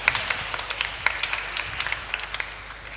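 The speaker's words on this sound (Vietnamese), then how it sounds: "Cho bạn một tràng vỗ tay." Children at a Lenten Catholic retreat giving a round of applause, a short burst of sparse, uneven hand claps with distinct individual slaps, fairly close and moderately loud, tapering off after a few seconds.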